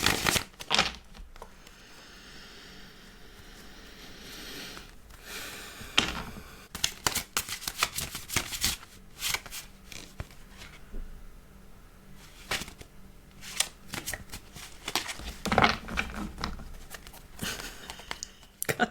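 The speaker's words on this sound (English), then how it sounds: "Got some weird shuffling going on today." Crisp, papery riffling of tarot cards being shuffled in irregular bursts, close and fairly quiet, with soft slaps and crinkles between runs.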